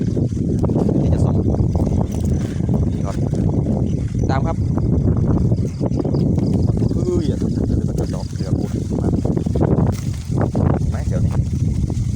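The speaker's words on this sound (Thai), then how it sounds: "ลมแรงมากครับเนี่ย" Strong wind buffets the microphone outdoors during a night frog hunt, a steady loud rumble running through the whole stretch with voices talking over it.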